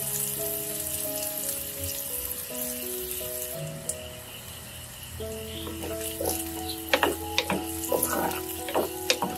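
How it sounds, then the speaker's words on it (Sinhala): Spices and chillies tempering in hot oil in a pot for Sri Lankan dhal curry, a steady close sizzle and crackle with clinking stirs and a faint tonal hum underneath, no talking. "තෙල් හට්ටියට දාපු ද්‍රව්‍ය තෙම්පරාදු වෙනකොට"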